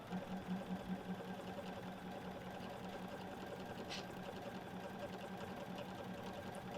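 A sewing machine runs a continuous straight stitch along a pillow edge, a steady, fast mechanical whir with a rhythmic needle chatter. It is quiet and close, with a faint click partway through.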